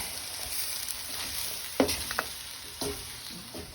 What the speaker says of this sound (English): gonna toss this around for a couple of minutes. And we're gonna let all that corn and those peas defrost and warm up